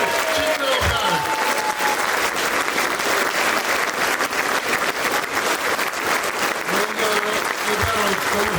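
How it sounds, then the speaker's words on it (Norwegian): A crowd at a festival car-prize announcement breaks into loud, sustained applause for the winner, thick continuous clapping close and full, with a few voices and cheers briefly rising within it. "Skikkelig applaus."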